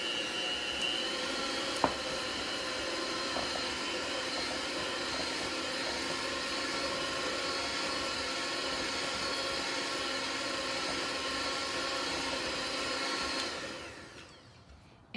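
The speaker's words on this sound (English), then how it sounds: "So I'm going to be turning my mixer on, and I'm going to be creaming my powdered sugar and my butter together." An electric mixer creams butter and powdered sugar in a home kitchen, giving a steady, even motor whir that runs for several seconds before winding down at the end.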